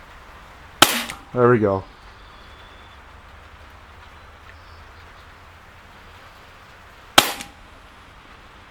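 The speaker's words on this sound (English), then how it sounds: "I'm going to shoot right for the center top ring." Two sharp gas-powered shots from an Umarex Elite Force blowback CO2 airsoft race gun fired at an outdoor target, each a loud crack with a brief mechanical rattle after the first, separated by several seconds of quiet; someone speaks briefly.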